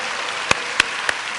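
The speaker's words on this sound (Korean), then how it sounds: "이분들 향해서도 박수 한번 칩시다" Conference audience of Christian teachers applauding returning attendees: continuous crowd clapping with three sharp individual claps popping out close by over the steady wash.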